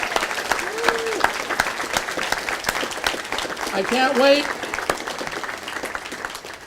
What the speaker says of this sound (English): Please give them a big round of applause for everybody who's here tonight